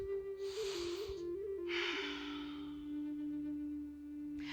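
Deep breathing during a yoga session, two long airy breaths, an inhale then a slower exhale, close and moderately loud over a steady low hum, with no talk.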